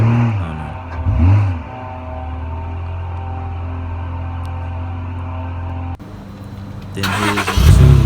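A car engine with both exhausts fitted cranks and starts, then settles into a steady idle before a sharp rev toward the end, close and loud with no voices.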